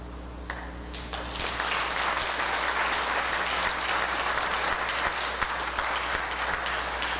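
A congregation in a Presbyterian church breaks into sustained applause, a dense, steady wash of clapping that swells within the first second and carries on evenly at full strength for several seconds, with no voices over it.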